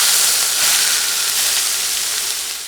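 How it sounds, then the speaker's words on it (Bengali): About a cup of sliced onions go into hot oil left over from frying fish for a Bengali fish curry, making a loud, dense, hissing sizzle that fades slightly toward the end. "মাছের পিসগুলো উঠিয়ে নিয়ে এখন একই তেলে দিয়ে দিচ্ছি পেঁয়াজ"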